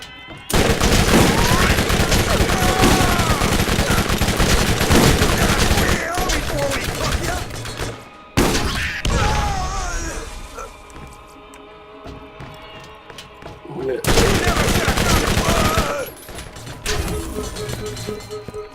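Rapid SMG fire with a twisted barrel in Borderlands, long loud bursts of automatic shots lasting several seconds each, broken by short pauses and quieter stretches of game sound between volleys.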